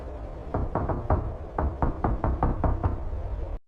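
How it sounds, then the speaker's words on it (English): Slow knocks on a front door, a steady series of solid thuds spread evenly over a few seconds, close and fairly loud, with no voices. "there was a knock on the front door. 3 slow knocks."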